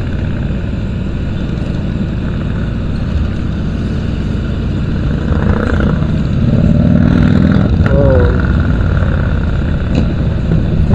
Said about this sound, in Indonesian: Wah, ini lagi nih moge. Suaranya menggelegar nih